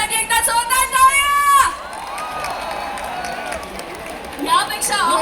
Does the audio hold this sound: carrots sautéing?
no